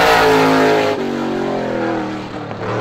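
A race car roars loudly and close as it starts its time trial lap at Star Speedway, its engine note dropping and settling after a shift about a second in, then holding a steady drone.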